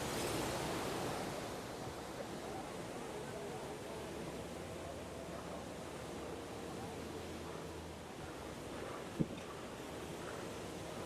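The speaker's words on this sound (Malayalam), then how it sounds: "ഭയങ്കര ഫോഴ്സോട് കൂടിയാണ് ഇവിടെ വെള്ളം താഴേക്ക് പതിക്കുന്നത്" The Rhine Falls in Switzerland give off a faint, steady, broadband roar of crashing water that stays constant throughout, with one sharp click late on.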